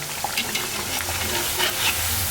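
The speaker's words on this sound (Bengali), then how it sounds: "এই যে ব্যাটারটা পাতলা হবে সময় নিয়ে ভাজতে হবে লাল লাল করে" Thin puri batter with black cumin fries slowly in oil, giving a continuous close sizzle with faint crackles and light stirring, no voices.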